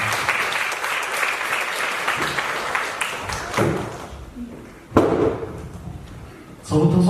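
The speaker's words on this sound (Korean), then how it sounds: "힘찬 박수로 맞이해 주시면 감사하겠습니다" Audience applause at a university student club information session as the club officers come forward, dense clapping that fades, then short renewed bursts near the end.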